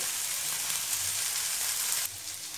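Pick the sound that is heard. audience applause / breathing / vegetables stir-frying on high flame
vegetables stir-frying on high flame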